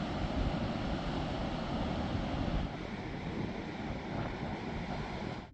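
Wind roars steadily around a parked camper van as a broad, rushing noise buffeting the microphone, constant throughout with a slight drop partway, no voices.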